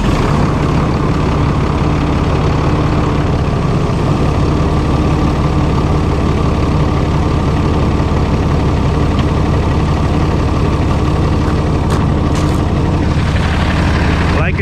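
A flatbed straight truck's engine idles loudly and continuously, a dense low diesel rumble with steady mechanical clatter throughout and a brief sharper noise near the end.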